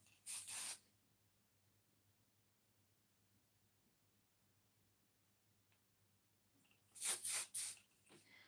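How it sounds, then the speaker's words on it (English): Volume hair spray hisses from an aerosol can in two bursts: one short spray near the start, then a cluster of three quick sprays after a long quiet pause, close and crisp. "I'm actually gonna be putting this volume spray here"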